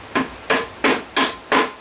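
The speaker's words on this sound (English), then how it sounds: "going to hammer that in till it's flush or a tad below the surface" A Festool Domino D14 connector hammered into a wooden mortise, five evenly spaced, sharp, close blows in a steady rhythm, alone with no talk.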